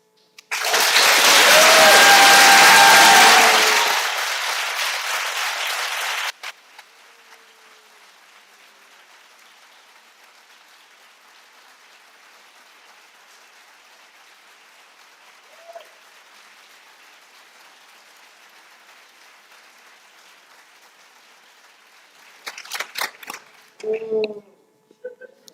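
A loud burst of audience applause at a school board of education meeting lasts several seconds and then stops abruptly, followed by a long stretch of quiet room tone and some brief talking near the end.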